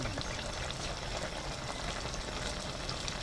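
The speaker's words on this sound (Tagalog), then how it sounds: "Kumukulo na po yung ating kaulaman." Steady bubbling and gurgling of chicken and tamarind stew boiling in a pot, close and continuous with no pauses or voices.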